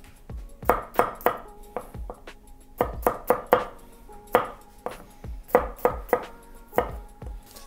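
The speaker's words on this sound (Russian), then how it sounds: "мы режем чеснок достаточно толстыми дольками, примерно где-то 3-4 миллиметра" A knife chops garlic cloves into thick slices, about 3-4 mm, on a board, with crisp irregular knocks in quick bursts of two to four cuts separated by short pauses, close and clear with no talk.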